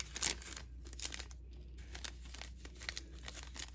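Cellophane wrapping on a gift pack kit crinkling and rustling as it is handled up close, irregular soft crackles and bursts with quiet pauses between, no talking.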